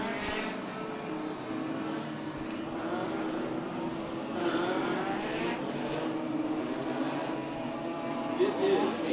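Legends race cars idle and rumble while lining up for the main event at Stockton 99 Speedway, a steady engine drone with a crowd-like wash and an announcer-style voice talking over it throughout.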